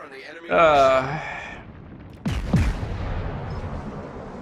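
A World of Warships battleship, the Großer Kurfürst, fires its main guns: two booming salvos in quick succession, each followed by a deep rolling rumble. Someone talks briefly beforehand.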